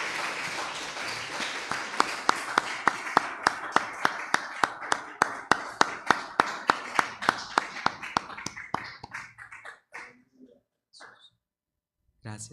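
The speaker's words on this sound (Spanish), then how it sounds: "Démosle un aplauso a Jesús." Church congregation applauding after a sermon, a dense run of sharp claps that thins into scattered sparse claps and fades out near the end.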